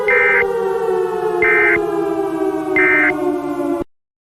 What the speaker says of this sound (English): Sirens have now been activated, meaning you should seek an underground shelter.